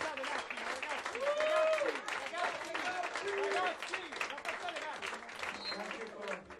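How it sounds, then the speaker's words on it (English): Sustained applause from a concert crowd cheering a band in Rome, a dense patter of many hands with shouts and voices rising over it throughout. "a big round of applause for the band"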